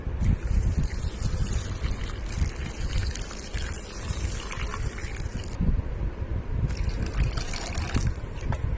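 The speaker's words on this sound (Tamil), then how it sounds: "அதே டைம் நம்ம சீரக சம்பா அரிசியும் ஊற வச்சுக்கலாம் தண்ணி ஊற்றி." Water pours steadily into a bowl of seeraga samba rice for soaking for Chettinad mutton biryani, a long close splashing stream that pauses briefly and then resumes, with no voices.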